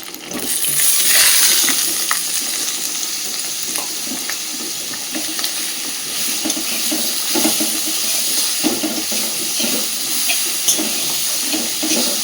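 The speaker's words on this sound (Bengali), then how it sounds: "এবার দিচ্ছি গ্রেট করা বিটটা" Grated beetroot with green chillies cooks in a pan, giving a steady sizzling hiss with scattered clinks and stirring scrapes throughout.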